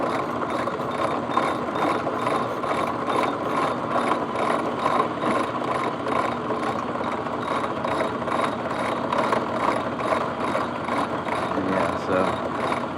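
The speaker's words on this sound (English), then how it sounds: "Back to grinding." A steady, continuous mechanical grinding drone runs while a sphere is being shaped, with a fast repetitive ratcheting texture and even loudness throughout, no voices over it.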